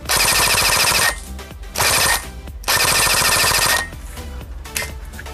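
An APS AK-74 airsoft rifle fires several long full-auto bursts, loud rapid mechanical rattling in three runs separated by short pauses.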